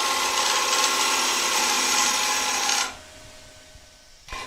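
A woodturning gouge cuts steadily into a spinning thin-walled wooden bowl on a lathe, a loud, continuous scraping hiss that stops abruptly near the end, followed by a quiet pause and a brief bump.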